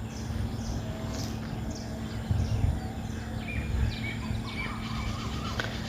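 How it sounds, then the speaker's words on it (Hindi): Several birds, including a koel, call intermittently in the distance at a village fish farm, short chirps and whistles scattered over a steady low outdoor hum. "यहाँ परिंदे हैं, कभी कोयल बोलती है तो कभी कोई और।"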